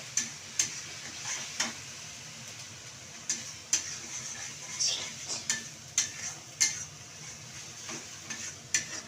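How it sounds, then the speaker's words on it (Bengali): Ground chilli, turmeric, cumin and coriander powders sauté in a pan for paneer kofta curry: a soft sizzle under repeated sharp spoon scrapes and taps against the pan, arriving every second or so. "দিয়ে ভালো করে কষিয়ে নেব।"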